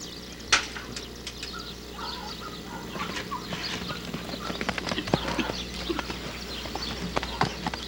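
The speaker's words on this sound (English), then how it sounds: "I hope we got the sound of his rear feet clicking together" A horse's rear hooves clop and click together irregularly, fairly close, with soft bird calls and faint background noise around them; no talking.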